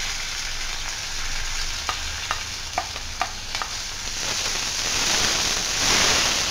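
Curry leaves and green chillies frying in a pan of hot oil, a steady hissing sizzle with a few light clicks of a spoon, growing louder toward the end.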